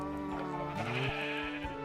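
Minecraft sheep bleat close by, a couple of wavering, nasal calls overlapping within about two seconds against a quiet background.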